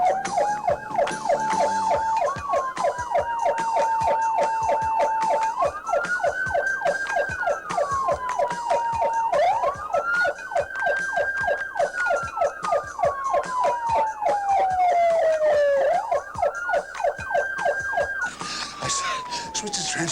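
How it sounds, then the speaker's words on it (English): A wailing siren on a hot rod sweeps up and down repeatedly over a rapid mechanical clatter, loud and close, running the whole time. "I always wanted me a siren."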